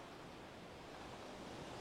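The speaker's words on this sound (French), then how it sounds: "j'aime beaucoup le bruit des vagues" Sea waves wash onto an empty beach near the Saint-Nazaire bridge, a steady, faint, broadband roar of surf with no speech over it.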